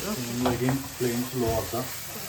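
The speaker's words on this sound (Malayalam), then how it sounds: "ആ ഗാർലിക് ആദ്യം ഇട്ടു ഗ്രീൻ ചില്ലി ഓക്കെ ലെമൺ ഗ്രാസും കൂടെ ഇട്ട്" Garlic, green chili and lemongrass sizzling in a hot pan, a steady close hiss with a few stirring scrapes running beneath a person talking throughout.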